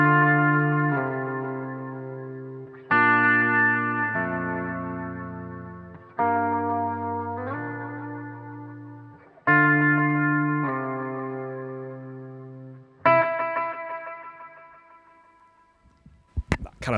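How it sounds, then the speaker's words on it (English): An electric guitar strums chords through a Catlin Bread Echo Rec delay pedal, modelled on the old Binson Echo Rec, each chord ringing out and decaying in a slow rhythmic pattern, ending with a brief sharp clatter. "Kind of typical sort of rhythmic, repeated, kind of patterned delay."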